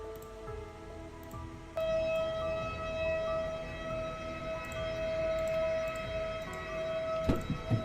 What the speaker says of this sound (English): Listen to the tornado sirens.